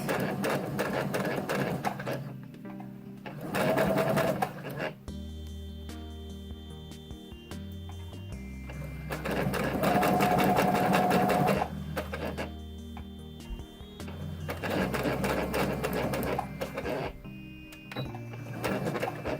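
Sewing machine stitching a zipper into cosplay fabric, running in steady bursts of fast whirring stitches with short stops between, close up and alone without speech.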